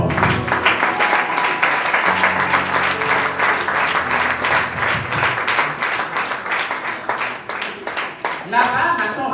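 Audience applause welcoming a storyteller onstage at a festival, loud sustained clapping from a crowd filling the whole stretch, fading slightly near the end as a voice begins.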